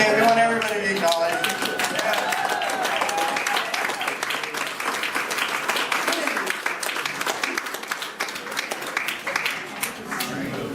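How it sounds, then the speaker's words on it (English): Audience at a Toastmasters talk breaking into applause, a dense burst of clapping that carries on steadily for several seconds, fairly close and loud, with a voice briefly at the start. "what's with all the applause?"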